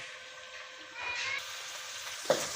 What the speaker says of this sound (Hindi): तो इसको बस हल्का सा इसमें फ्राई कर लेंगे।